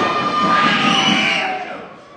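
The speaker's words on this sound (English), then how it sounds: "Cry of injustice from the crowd here." A wrestling crowd at an indoor independent show shouts and boos in protest, a loud, close roar of many voices that swells and then fades away over about two seconds.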